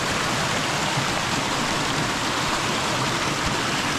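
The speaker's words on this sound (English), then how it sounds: "This, I think, is Kitchen Creek." Kitchen Creek in Ricketts Glen State Park flows in a steady, dense broadband rush of water, constant and close with no pauses or voices.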